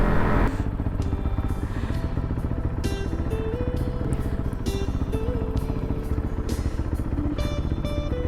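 A motorcycle engine drones steadily and close throughout, with light mechanical clatter on top and no clear pass-by swell.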